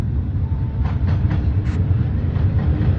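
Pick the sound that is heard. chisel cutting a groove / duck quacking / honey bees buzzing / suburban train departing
suburban train departing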